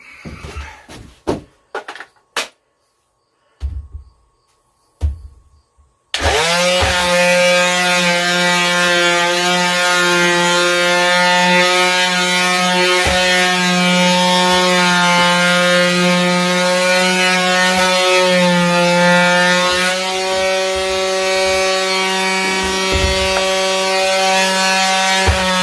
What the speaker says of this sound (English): I'm going to power sand a little bit here.